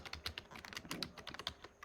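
A password is tapped out on a computer keyboard in a quick, uneven run of light, close key clicks, some of them sharper than the rest, with no voices over it.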